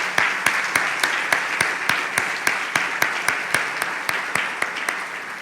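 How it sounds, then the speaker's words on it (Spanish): A church congregation applauds after a sermon, settling into steady rhythmic clapping in time, with a broad wash of hands beneath the beat. "Un fuerte aplauso."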